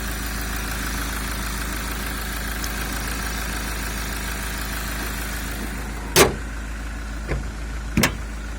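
Iveco Daily three-litre diesel engine idling, a smooth, even hum held steady throughout, close by, with a few sharp knocks or clicks near the end.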